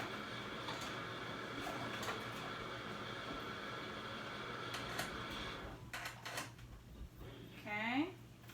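A sewing machine edge stitches a swimsuit casing, running as a steady mechanical whir for several seconds before stopping, followed by a few clicks and a brief rising whine.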